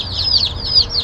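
A crowd of baby chicks peeping continuously, high-pitched chirps overlapping close by with a low background hum.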